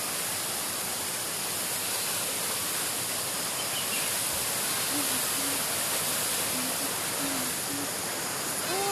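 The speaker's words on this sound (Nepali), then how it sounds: "यो चाहिँ खोला हो" Steady broadband rush of a stream flowing through open grazing pasture in hilly country, a continuous near wash of water that fills the whole clip, with faint brief voices briefly audible beneath it.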